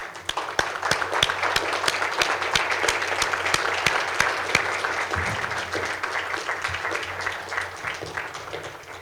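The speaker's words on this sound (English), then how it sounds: "Please rise up and let's give them a huge round of applause." An audience gives a standing round of applause at a school graduation ceremony for the Class of 2020 in Riyadh, loud, sustained clapping from a large crowd with sharp individual claps standing out near the microphone.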